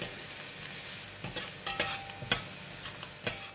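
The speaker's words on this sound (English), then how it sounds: "We're going to fry the garlic until brown and crispy." Garlic frying in hot cooking oil in a pan, a steady crackling sizzle punctuated by scraping stirring strokes at irregular intervals, close and clear with no voices.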